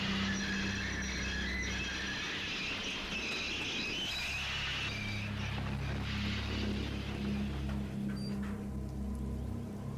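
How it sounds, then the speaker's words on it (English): A train brakes hard inside a tunnel with a sustained metallic squeal, a steady low rumble and a droning hum underneath. The noise holds loud throughout, then shifts in pitch near the end, and nobody speaks. "Brake, Boko, brake"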